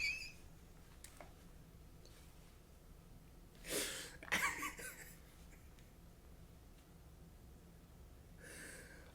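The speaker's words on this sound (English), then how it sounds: "Oh, I'm about to sneeze." A single sneeze bursts out close and sharp in a quiet room, followed by a second smaller snort-like burst, then near silence with a faint breathy sound at the end.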